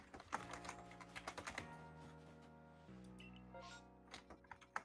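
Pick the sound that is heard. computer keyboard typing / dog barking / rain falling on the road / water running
computer keyboard typing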